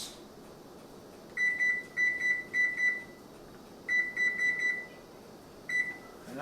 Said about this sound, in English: Set my timer for 10 minutes.